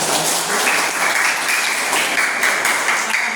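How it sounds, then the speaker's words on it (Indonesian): A class of students applauding, loud and close, a thick and continuous wash of clapping that holds steady from start to end. "Silakan beri tepuk tangan."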